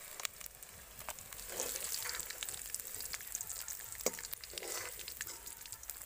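Paneer cubes frying in hot oil in a pan, a steady close sizzle with crackling pops and occasional stirring scrapes.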